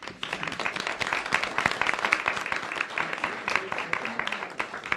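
Scattered applause from a small seated audience at an academic colloquium, a moderate patter of clapping that holds steady for several seconds, with some voices murmuring underneath.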